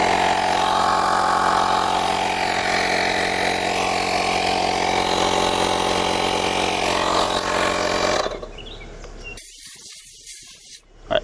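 VEVOR 12V tire inflator compressor running loud and close with a steady buzzing drone, cutting off after about eight seconds, followed by faint handling noises.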